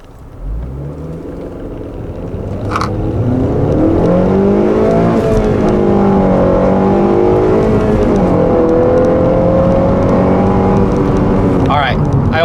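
A 2015 Honda Civic with a 2.4 liter engine and manual transmission revving hard toward its 7,000 RPM redline, the engine note climbing in pitch through the gears, loud and sustained from inside the cabin.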